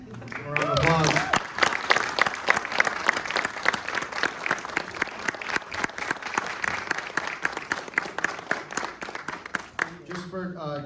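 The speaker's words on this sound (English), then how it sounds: "A round of applause." A round of applause at a military promotion ceremony, a room of people clapping with crisp, distinct claps, with voices speaking at the start and again at the end.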